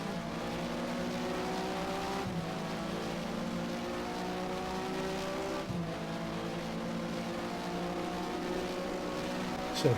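A Porsche Mobil 1 Supercup race car in the Race07 sim on a qualifying lap at Catalunya, its engine droning loud and constant, climbing in pitch and dropping sharply at two gear shifts.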